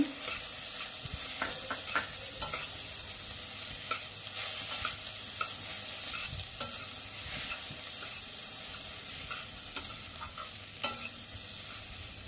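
Soybean chilli being stir-fried in a pan right after Byadgi chilli powder goes in, with a steady sizzle of frying and repeated scraping and stirring clatter throughout, no talking.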